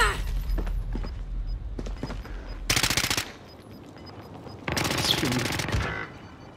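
Bursts of rapid automatic gunfire crackle through a Warzone match: a few scattered shots and then two long, loud sustained volleys, with players' voices heard between them.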